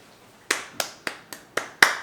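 Six sharp hand claps, close and crisp, spaced roughly evenly about a quarter second apart with no other sound between them.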